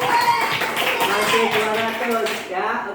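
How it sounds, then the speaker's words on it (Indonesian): A classroom group gives a round of applause for Team A, with steady dense clapping from many hands over a low murmur of pupils' voices. "Tepuk tangan untuk kelompok regu A."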